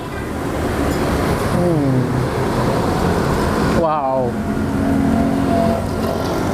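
Road traffic roars past a roadside soto Betawi food stall in South Tangerang, a steady loud rush of passing cars and motorbikes with brief rising engine tones, while people talk over it.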